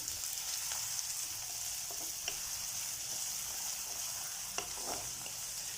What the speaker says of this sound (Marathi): बटाटे फ्राय करायचे तेलामध्ये